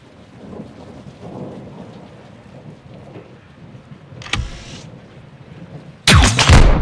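Rain and thunder in Call of Duty: Modern Warfare II, a steady patter of rain under low rumbling, a brief crack near the middle, then a loud, close thunderclap bursting in at the end.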